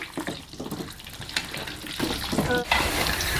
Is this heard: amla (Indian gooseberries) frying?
yes